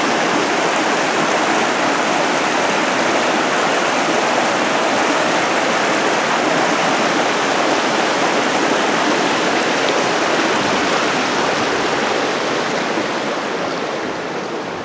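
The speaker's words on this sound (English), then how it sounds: "Stop here and take a look at Talapus Creek." Talapus Creek rushes past at a lake trail bridge, a loud, steady broadband roar of flowing water that holds constant throughout with no voices.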